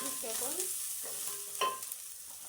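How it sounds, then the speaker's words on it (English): Garlic and onion cooking in a pan for a minced meat dish, a soft, quiet sizzle with a few light utensil clicks near the end, no speech. "Let the garlic and onion cook for about 3 seconds."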